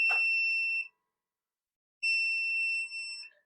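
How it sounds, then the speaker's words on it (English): A Sailnovo 18-egg incubator alarm sounds two long, loud electronic beeps about two seconds apart, with silence between them and nothing else heard. "You can actually silence the alarm just by pressing the light button and you're silenced."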